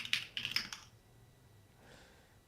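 Quick burst of keystrokes on an expensive enthusiast mechanical keyboard, a handful of sharp clacks in the first second, close and clear, then fading into quiet room tone.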